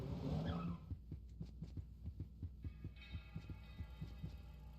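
A police car in the video game Look Outside, a tire screech at the start followed by a rhythmic, throbbing low pulse repeating about twice a second, moderately loud.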